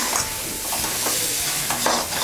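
A spoon stirs chana dal filling through hot jaggery syrup in a pan for purnam burelu, a steady wet hiss and sizzle with soft scraping strokes, close and continuous, with no voices.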